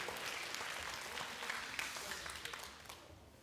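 Applause from a church youth group in Gunsan, a moderately quiet patter of clapping hands in a small room that fades out toward the end.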